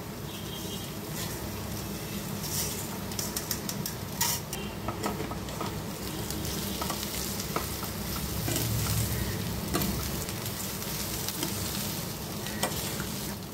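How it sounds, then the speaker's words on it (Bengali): Rice frying in a pan for mutton pulao, a dense continuous sizzle with repeated spoon scrapes and clatters against the pan, close and steady throughout. "চালটা যখন চটচট করে আওয়াজ হবে সেই সময় বুঝবো চাল ভাজা হয়ে গেছে। ততক্ষণ চালটা ভেজে নেব।"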